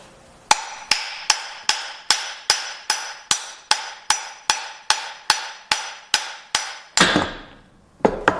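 A hammer taps out bearings from a mower deck spindle: about sixteen evenly spaced, sharp metallic strikes ring close and loud in steady rhythm, followed by a short rattle as the part comes free and one last tap.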